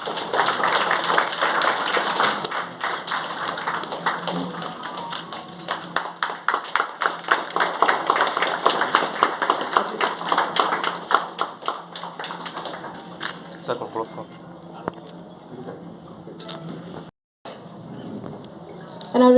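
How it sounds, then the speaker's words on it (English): Hospital audience at the opening of an ENT department claps at length, with sharp individual claps in a steady stream that thin out and fade toward the end. "Can we all please give a big round of applause?"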